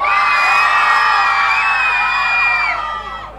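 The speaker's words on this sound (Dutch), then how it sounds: "Als ik zeg Westside, moeten jullie schreeuwen, ja?" A live audience at a Dutch event shouts and cheers loudly on cue, a dense sustained roar of many voices that swells together and fades toward the end.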